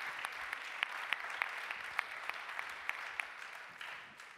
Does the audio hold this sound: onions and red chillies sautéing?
no